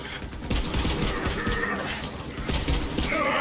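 Rapid gunfire crackles through a Borderlands 3 firefight, bursts of shots rattling in quick succession over a busy, mechanical game soundscape.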